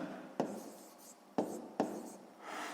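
A pen scratches on paper during a sixth-grade math lesson, faint and close, broken by three sharp taps as strokes begin. No one speaks.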